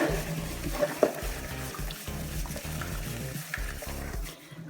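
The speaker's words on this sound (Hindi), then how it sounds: "और इस तरह जो है इसको अच्छे तरीके से मिक्स करूँगी।" A spoon stirs salt through a wet biryani masala in a pan, giving soft, close scraping and squelching with a faint sizzle underneath, continuous and fairly quiet.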